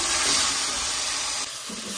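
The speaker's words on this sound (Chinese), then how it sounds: "加入豆瓣酱炒出红油" Doubanjiang bean paste fries in hot oil in a wok with leftover oil and aromatics, a steady close sizzle that stays loud and even, then eases slightly near the end.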